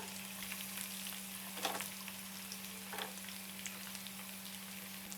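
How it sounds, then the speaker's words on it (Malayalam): Garlic sautés on low heat in oil in a pan with green chilli and curry leaves, for a garlic pickle. A faint, steady sizzle with a low electrical hum runs throughout, broken by a couple of soft stirring scrapes. "സിമ്മിലിട്ട് വെളുത്തുള്ളി വഴറ്റുക."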